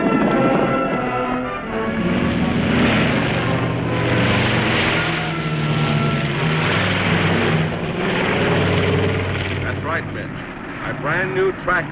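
A propeller airplane drones steadily and loudly throughout, with voices talking over the engine noise.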